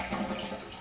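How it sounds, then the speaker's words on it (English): A toilet flushes with a steady, rushing wash of water across the whole short moment, moderately loud and unbroken. "we go ahead and flush the toilet like you normally would."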